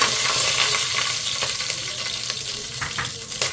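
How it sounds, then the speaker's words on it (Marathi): Whole spices sizzle and crackle in hot oil and ghee for chicken dum biryani, a close, steady frying hiss scattered with small pops. "तेल आणि तुपात मस्त असं कडकडीत करून घेऊया."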